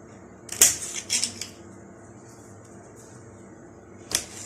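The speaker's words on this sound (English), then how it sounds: "I will take the pepper and I will cut it for small rings" Knife chopping a hot pepper into small rings on a board: a few sharp, close clicks, two grouped near the start and one near the end, over a quiet background.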